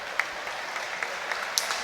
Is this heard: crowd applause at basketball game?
yes